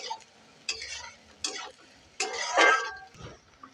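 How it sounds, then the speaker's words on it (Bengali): Chopped onions are lightly fried in a pan, heard as intermittent bursts of scraping stirring and soft sizzle with spoon clatter against the pan, close and moderately loud between quieter gaps. "কুচি করে রাখা পেঁয়াজগুলো এর মধ্যে এখন দিয়ে দেব। পেঁয়াজটাকে বেশি ভাজবো না, হালকায় ভেজে নেব।"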